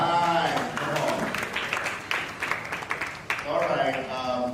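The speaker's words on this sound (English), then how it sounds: "A round of applause for her one more time" An audience at a youth festival applauds a speaker, scattered clapping that swells in the middle while a presenter talks over it.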